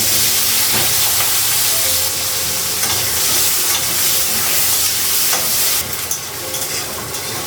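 Onion and green chili fry in hot oil in a pan at home while a cauliflower and potato curry is being cooked, giving a loud, steady, close sizzle and hiss that runs without pause.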